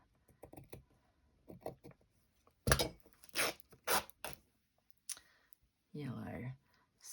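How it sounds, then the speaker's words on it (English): Fabric is torn by hand for a zippered pouch, the rip running into the stitching. Several short, close, dry ripping bursts come in quick succession, then one more tear after a pause, with soft clicks between. "So we'll tear that, which started to tear the stitching"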